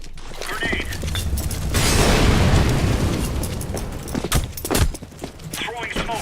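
A grenade explosion in a video game swells into a broad, rumbling blast that fades slowly, surrounded by clattering mechanical sounds and voices talking.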